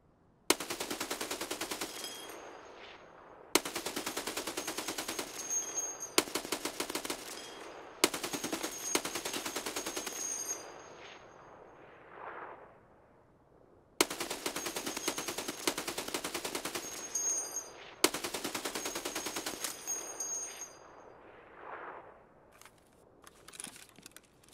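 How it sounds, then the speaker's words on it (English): A mounted machine gun in Escape from Tarkov SPT fires long, loud, continuous automatic bursts, about six of them with short pauses in between, followed by scattered ringing echoes. "I actually get the gun, or get on the gun, and I don't see anybody to shoot with it"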